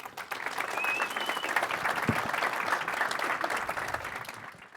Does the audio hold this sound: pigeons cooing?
no